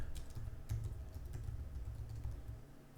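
Close, rapid tapping on a computer keyboard runs in an uneven rhythm for a few seconds, with no talking.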